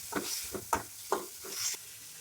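Onion and tomato fry in oil in a pan, a soft continuous sizzle broken by several quick stirring scrapes, close and without any voices.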